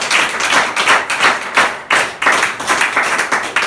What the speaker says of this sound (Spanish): ¿Cuántos le dan un aplauso a Jesús?